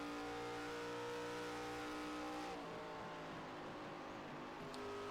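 A race car engine howls at sustained high revs down the back straight at Kentucky in an ARCA series racing game, steady and loud, shifting pitch midway as the car passes.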